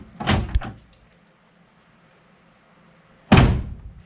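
A 1969 Plymouth Fury C-body muscle car door is shut twice, two loud close thunks with a short rattle after the first and a few seconds of quiet between.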